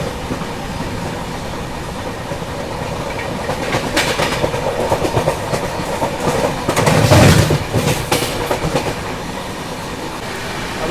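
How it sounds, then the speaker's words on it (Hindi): Diesel-hauled intercity train running through Dhupguri station without stopping, rolling rumble with rhythmic clickety-clack of wheels over rail joints, swelling louder midway as cars pass close, then easing off. "तो डीजल लोकोमोटिव के साथ में इंटरसिटी चलती है।"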